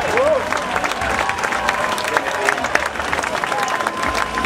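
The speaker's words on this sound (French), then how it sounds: "On peut encore les applaudir très fort." An audience at a sailing medal ceremony applauds the third-place English team, sustained clapping from a crowd with a voice on a public address system speaking over it.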